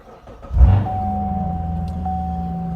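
A Corvette C7 Z06 with a ported throttle body cranks briefly and fires up with a loud burst, then settles into a steady, deep idle rumble that continues to the end.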